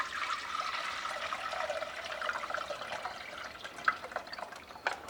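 Turkey drippings pour steadily through a strainer into a pot, a soft continuous liquid trickle with a few drips near the end, fairly quiet with no talk.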